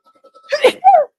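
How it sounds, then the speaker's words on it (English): A single loud, close sneeze with a sharp inhale-burst and a voiced tail, preceded by a few faint soft sounds. "That was a sneeze."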